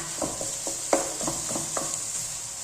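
Minced meat with fresh ginger and garlic frying in a pan, a steady sizzle running throughout while a spatula presses and breaks the mince in a series of sharp scraping strokes.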